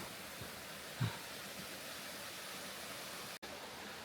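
Steady broadband rushing roar of a waterfall in a valley on a hiking trail, continuous and fairly loud throughout, with a brief soft bump near the start and one short dropout late on.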